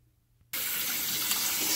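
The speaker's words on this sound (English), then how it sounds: "rinse this out with the warmest water" Water gushing steadily from a tap to rinse out hair, starting abruptly after a short silence and continuing as a close, full, even rush.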